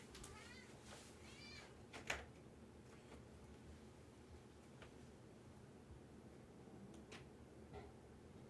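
A cat meows a few times, quiet and somewhat distant, over low room noise with faint background voices.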